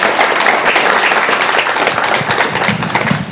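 An audience at a library project summit in Migori County applauds loudly, a dense wash of many hands clapping together without a break.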